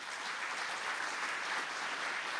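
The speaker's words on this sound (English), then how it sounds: "Let's all give a round of applause" Steady crowd applause from a conference audience fills the whole stretch, a dense even wash of many hands clapping at constant loudness with no talk over it.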